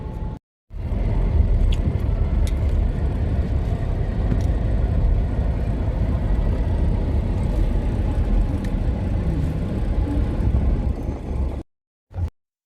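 A continuous whooshing rumble of cars moving along a congested street in Kuwait holds steady and fairly loud for most of the stretch, cutting off abruptly near the end with a brief burst after a gap.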